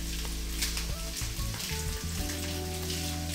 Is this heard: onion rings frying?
yes